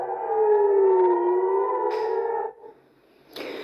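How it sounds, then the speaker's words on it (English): An air raid siren wails across Israel in a long, steady rising-and-falling tone that is loud and fairly near, then breaks off briefly before sounding again, with no voices over it. "as air raid sirens ring out again"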